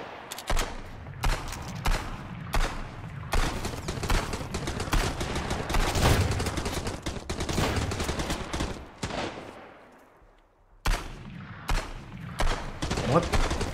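Rapid bursts of gunfire in the video game Sunkenland crackle loudly and repeatedly, sharp shots stacking into dense volleys, a brief lull near the end before more shots resume.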